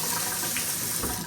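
Running water from a faucet with different spray modes at a deep double vanity sink, a steady close hissing stream throughout the short stretch, with no talking.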